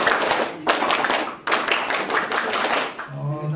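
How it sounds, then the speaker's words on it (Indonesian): Schoolchildren performing a rhythmic scout clap in bursts of rapid patterned clapping broken by short pauses, with voices chanting along, ending in a brief voice. "Tepuk pramuka"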